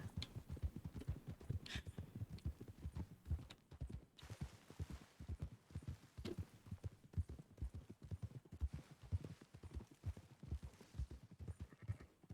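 Horse hooves clip-clop steadily in Red Dead Redemption 2, a quick, even rhythm of close hoofbeats continuing throughout, faint in level with no speech over it.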